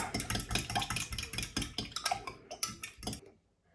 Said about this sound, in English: Give the egg and milk a quick whisk